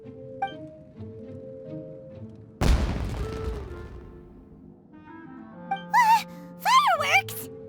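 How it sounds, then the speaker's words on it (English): A sudden loud boom in Genshin Impact, a burst of fireworks exploding with a crackling tail that fades over a few seconds, followed by short vocal gasps. "Was that an explosion? It sounded like fireworks."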